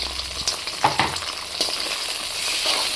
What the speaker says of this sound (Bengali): এবার আমি মটরশুঁটিগুলো দিয়েছি তেলে ভাজি একটু আদা রসুন পেস্ট